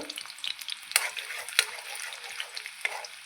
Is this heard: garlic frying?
yes